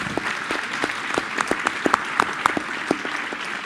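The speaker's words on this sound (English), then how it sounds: "Please applause for Dr. Jumana" An audience at a convention claps steadily, a modest crowd's applause with scattered sharp claps standing out, no voices over it.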